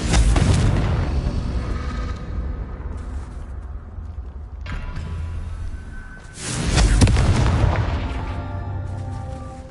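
Confringo blasting spell explosions in Hogwarts Legacy on PS5: two loud, booming blasts several seconds apart, each with a long rumbling decay, alone without talk.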